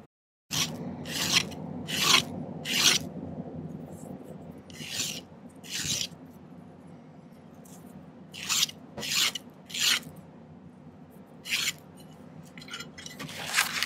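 Corners of a silver ring being filed by hand, close rhythmic rasping strokes repeated in uneven bursts over a steady low background hum, no voices.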